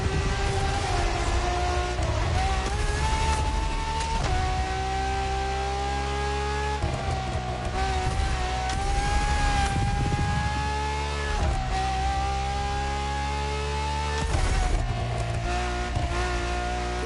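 A Ferrari V12 hybrid car drives in The Crew Motorfest racing game, its engine note droning loudly and continuously, rising and falling through gear changes and revs.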